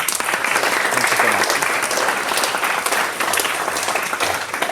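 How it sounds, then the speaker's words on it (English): An audience breaks into sustained, loud applause, a dense wash of clapping hands that holds steady for several seconds at a lecture on music theory. "let's give him another round of applause"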